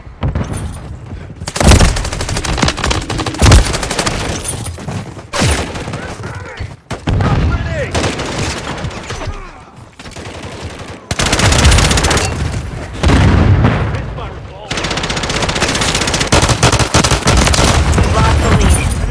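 Dense gunfire and explosions fill a Call of Duty-style multiplayer match, with rapid automatic bursts and heavy booms continuing almost without pause, loud and close, while game voice lines and talk are heard.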